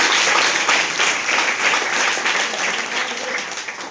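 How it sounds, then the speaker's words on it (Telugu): Hostel students clapping together at an awareness talk, a dense, steady roar of applause from a crowded room that holds at full strength throughout. "ఒకసారి మీకే ఒకసారి క్లాప్స్ కొట్టుకోండి."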